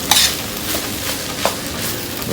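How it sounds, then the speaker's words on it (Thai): Spicy field rat stir-fried in a pan, giving a steady sizzle with scraping stirs and occasional utensil clicks against the metal, close and continuous, with no talking. "ง่ายๆนะผมผัดเผ็ดหนูนา"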